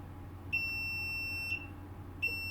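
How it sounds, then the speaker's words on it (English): A multimeter in continuity mode beeps when probed on ground during a no-power PS5 console repair: three short, clear electronic tones, each sharp at onset, over a low steady hum. "So we're still in continuity mode, so we should get a beep on ground,"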